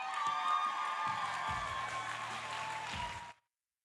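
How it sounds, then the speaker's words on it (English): An audience applauds and cheers for Brittany Gentry at an opening session on Marco Island, a steady dense wash of clapping and shouts that holds for over three seconds and then cuts off abruptly. "Everyone, please stand up and give a rowdy applause for Miss Brittany Gentry"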